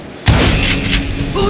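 A loud burst of gunshots in the video game Call of Juarez Gunslinger opens with a sudden boom and is followed by a rattling volley of shots.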